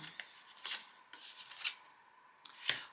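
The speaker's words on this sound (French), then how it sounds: "on prend encore 2 cartes et puis on regarde ça un peu plus en détail" Tarot cards are shuffled and drawn by hand in quick crisp bursts, several short riffling swishes and flicks close by, with quiet gaps between and no talking.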